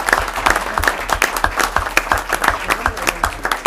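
An audience at a board meeting breaks into warm applause honoring a long-serving staff member, a steady patter of many hands clapping at close range for several seconds.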